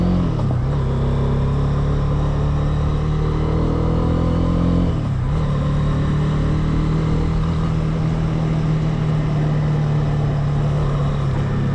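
A Honda CB300R motorcycle being ridden on a sunny September day, its engine holding a steady loud drone close by, with a short dip and rise midway as the throttle changes, and no talking.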